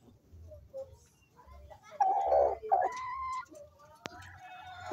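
Double wing pigeons coo in low soft bursts, with brighter calls and clucks among them, close and intermittent, under someone speaking.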